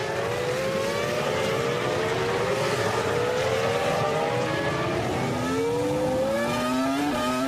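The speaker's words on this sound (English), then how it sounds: "He's slipping right down the order with a rapidly disintegrating engine." Jenson Button's 2005 Formula 1 car, its engine failing and trailing smoke, roars past amid other racing cars. Rising engine pitches sweep repeatedly through continuous loud track noise, and no voices are heard.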